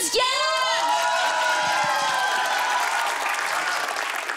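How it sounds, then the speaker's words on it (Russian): A studio show audience bursts into applause with cheering and whoops, dense and loud, opening with a bright tonal sweep before the crowd noise settles into a steady roar of clapping. "Давайте аплодисменты"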